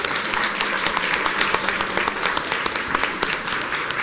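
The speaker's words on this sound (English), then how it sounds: "Can we give the Book Queens some big applause?" An audience at a Battle of the Books competition gives the Book Queens team a dense burst of clapping, close and steady throughout with a faint voice underneath.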